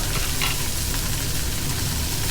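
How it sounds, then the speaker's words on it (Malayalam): Mustard seeds and curry leaves splutter in hot oil for an Onam sadya dish, giving a continuous close sizzle dotted with small popping crackles. "കടുക് പൊട്ടിച്ചു കടുക് കറിവേപ്പില"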